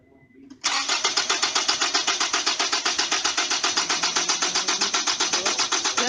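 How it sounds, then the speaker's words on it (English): A car engine cranks on its starter during a starting system test, a loud rapid rhythmic whirring with even pulses that begins abruptly after a short lead-in and continues steadily for over five seconds without catching. "And crank it."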